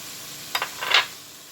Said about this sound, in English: Now you stir and combine everything.